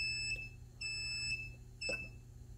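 The low temperature alarm on the controller of an agricultural hot air heater gives three short, high, piercing beeps at an even pace over a steady low machine hum.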